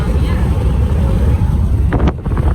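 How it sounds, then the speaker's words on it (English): Strong wind buffets the microphone in a constant low roar at Tallulah Falls, loud and steady throughout, with a brief gusty flutter near the end. "It's super windy here."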